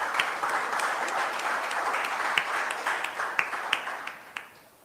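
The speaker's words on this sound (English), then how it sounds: "Give him a round of applause." Audience at a community town meeting in Bethel, Tobago breaks into steady applause, a dense patter of many hands with a few louder sharp claps near the end as it fades out.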